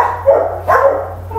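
A dog barks twice in quick succession indoors, close and loud, over a low steady hum.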